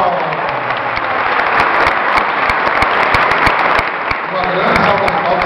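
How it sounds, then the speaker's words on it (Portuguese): Loud, close applause from wedding guests, brisk overlapping clapping with sharp individual claps standing out, with voices mixed in underneath. "Uma salva de palmas."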